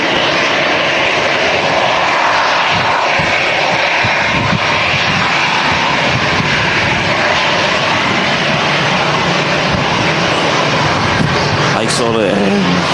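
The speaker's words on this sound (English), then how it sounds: "It's an A319 in from Helsinki." An Airbus A319 airliner arriving from Helsinki at windy Manchester Airport roars steadily and loudly throughout, its broadband engine noise blended with wind, while people talk over it.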